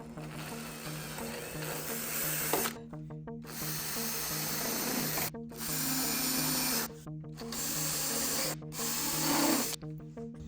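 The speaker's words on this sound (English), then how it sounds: "so I'll use my in and out deburring tool for that" An in-and-out deburring tool scrapes the hole edges on a RANS S-21 aircraft elevator tip skin, making a steady rasping scrape in several long strokes with brief silent gaps between them, close up.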